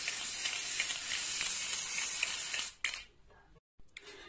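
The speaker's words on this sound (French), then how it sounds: "je vais utiliser le spray à base de beurre de cacao" Cocoa butter spray hisses steadily onto a white chocolate and raspberry entremets to give it a velvet finish, a continuous close aerosol spray that cuts off abruptly, followed by brief quieter bursts.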